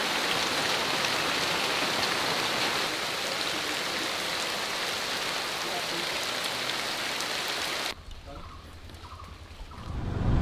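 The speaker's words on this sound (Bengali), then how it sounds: "আবার বৃষ্টি চলে এলো রে, আমাদের আর যেতে দেবে না।" Steady rain falls in a natural forest area, a dense, even hiss of drops on surfaces that continues for several seconds before cutting off abruptly to quieter ambience.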